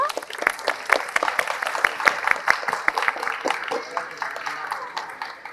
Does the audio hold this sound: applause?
yes